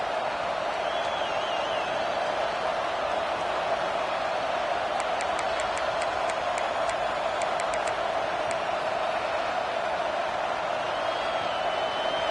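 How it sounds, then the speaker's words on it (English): A stadium crowd at an American football game roars without a break, a thick, steady wall of noise from many voices, with a few faint whistles and clicks over the top. "And with this place rocking, the crowd forces a false start."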